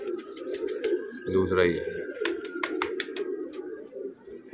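Pigeons cooing softly in a low, rolling murmur close by, with a brief louder coo burst, sharp chirps and clicks scattered throughout, under someone talking.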